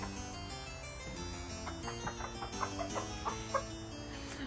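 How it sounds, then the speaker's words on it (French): Hens on a horse farm clucking and chattering nearby, a run of short repeated clucks that grows busier toward the end, faint under a steady background hum. "j'ai les poules qui sont très bavardes aujourd'hui"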